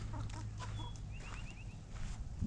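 Several chickens cluck softly and chatter close by, with a few higher chirps from other birds in the background.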